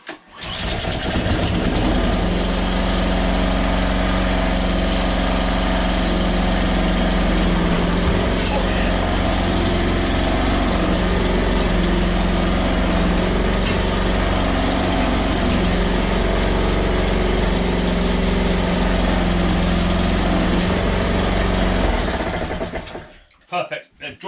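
A Honda HRX476 self-propelled petrol lawn mower engine runs steadily and loudly for over twenty seconds, a constant droning rumble that cuts out abruptly at the end.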